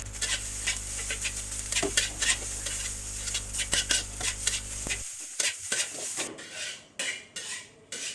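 Village-style fried rice is stirred and scraped in a sizzling pan, with steady metallic clinks and rasps of a utensil against the pan over continuous frying hiss, close up and without voices.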